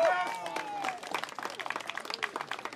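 A crowd at a medieval knights' tournament at Grunwald claps and applauds steadily, mixed with a few voices calling out over the clapping.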